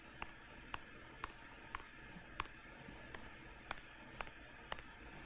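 Computer mouse clicks while outlining a reservoir polygon on screen, a steady series of sharp single clicks spaced about half a second apart, close and faint over quiet room hiss.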